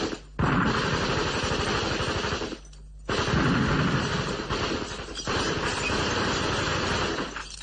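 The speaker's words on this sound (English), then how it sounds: "started shooting" Sustained automatic gunfire in an armed attack on diners at a fish restaurant, loud and dense in long rattling bursts broken by two brief pauses.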